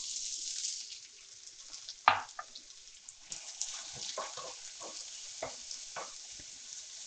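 Onion dropped into a hot pan for spinach soup, a sharp sizzle burst followed by soft frying hiss and scattered stirring scrapes, close but fairly quiet, with no talking.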